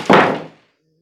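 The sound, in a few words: cat knocking over a cat food bowl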